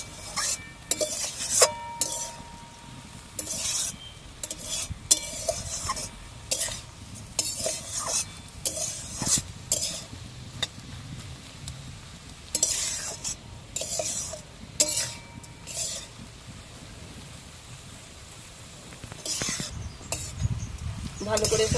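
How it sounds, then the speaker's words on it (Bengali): Water spinach and lentils with sugar are stirred in a pan with a utensil, giving irregular scraping clinks against the metal over a soft background sizzle, with intermittent bursts and pauses. "একসাথে ভালো করে নেড়ে দেব।"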